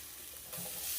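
Ground turkey taco meat and pickled jalapeños hit a hot pan, a brief, fairly quiet sizzle that swells louder halfway through.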